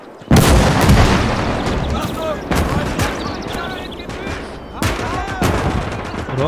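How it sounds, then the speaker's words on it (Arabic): Artillery cannon fire in the Call to Arms: Gates of Hell video game on the Eastern Front: repeated loud, close booming shots that arrive in bursts, with rolling rumble and echo between them. "مدفع"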